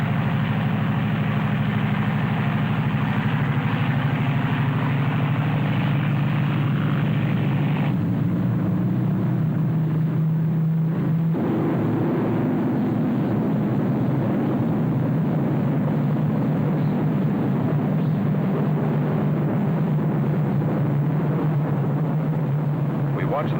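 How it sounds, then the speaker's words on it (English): An airplane engine drones loudly and steadily during takeoff, with a low throbbing hum that shifts in pitch partway through as the aircraft powers away. "Watched that plane take off."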